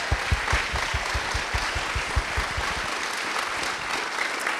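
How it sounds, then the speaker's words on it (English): A show audience applauds its performers, a dense stretch of many hands clapping that gradually thins and fades toward the end. "please join me in another round of applause for our 10 performers"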